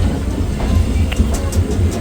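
Low rumbling of a moving electric-hauled Jan Shatabdi train, train number 12053 near Amritsar, with faint rhythmic clatter, steady and fairly loud throughout.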